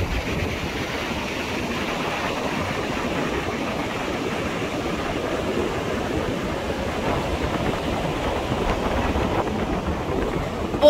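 Sea waves wash steadily onto the beach at Mandvi at six in the morning under a cloudy sky, a continuous broadband surf roar with some wind rumble and no voices.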